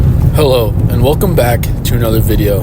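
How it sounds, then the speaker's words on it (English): Constant low road rumble inside a moving car, captured on an iPhone, runs steadily beneath a person talking throughout. "if you feel like the audio is kind of off, it's because I'm in my car"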